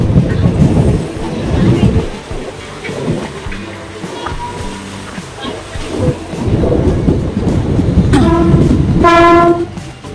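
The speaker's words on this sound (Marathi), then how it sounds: "पनवेलला लोकल ट्रेन आणि आपली मत्स्यगंधा एक्सप्रेस ही एकाच टायमाला इथे पोचली" At Panvel station, the Matsyagandha Express and a local train rumble with heavy, continuous rolling noise and wheel clatter, followed by a loud, sustained horn blast toward the end.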